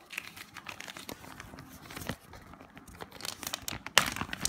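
Close, continuous crinkling and rustling of a plastic bag holding a dust bag from a BAPE Baby Milo x Hello Kitty hand towel package, sharp crackles rising toward the end.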